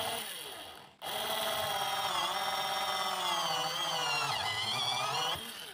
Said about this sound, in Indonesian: Sangat mudah sekali untuk melubanginya menggunakan mata bor yang kita buat ini